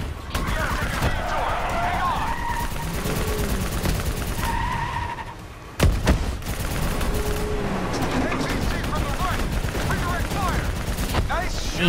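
Machine gun fire aimed at a VTOL aircraft in the Black Ops 3 campaign rattles in dense, nearly continuous bursts over a busy mix of engine roar and in-game voices. It briefly thins before a loud impact and resumes.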